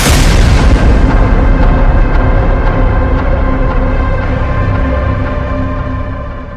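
A heavy, sustained explosive rumble from bombing in Gaza fills the whole stretch, loud and continuous with a broad roar that slowly fades, no voices.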